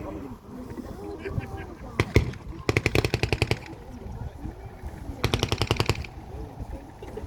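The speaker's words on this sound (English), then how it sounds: "There's a German machine gun at the top of the field, which is an MG-42, one of the fastest firing machine guns" A German MG-42 machine gun at a wartime battle reenactment rips off two fast, loud bursts with a tearing rate, plus a couple of single sharp shots, over outdoor field ambience and distant crowd noise.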